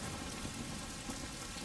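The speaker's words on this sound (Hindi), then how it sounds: "बारिश हो रही है" Heavy rain pours steadily in a film scene, a dense continuous hiss with a low rumble underneath and no voices.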